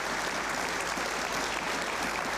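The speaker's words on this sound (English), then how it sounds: "That's worthy of a round of applause in its own right." An audience gives a round of applause, a steady wash of many hands clapping at moderate distance, fairly faint and continuous with no voices on top.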